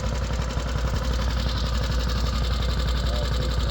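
A Manco Thunderbird minibike's small engine runs steadily just after its first start, a fast, even chattering putter at close range, with a voice partly over it.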